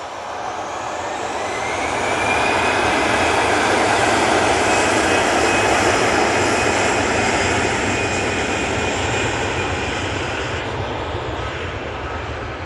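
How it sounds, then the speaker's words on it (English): An easyJet Airbus A320-200 jet roars through its takeoff at Manchester Airport, a loud sustained engine rumble and whine that swells over the first two seconds, holds steady, then eases slightly toward the end. "Easyjet A320-200 is off to Tivat."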